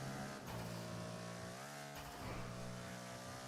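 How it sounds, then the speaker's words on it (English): Car engine revving in the FiveM roleplay game on an emergency services server, a steady loud synthetic engine drone with a couple of brief pitch swells, heard alone without talk. "The engine sound isn't as bad as that other one."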